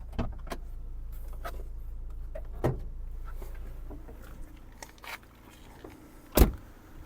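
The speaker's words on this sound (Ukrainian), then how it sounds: "Склопідйомники працюють, електродзеркала. працюють." Power windows on a 2005 Opel Zafira 1.8 automatic whirring up and down inside the car, quiet electric motor hums with clicks and thumps at the stops, no talking.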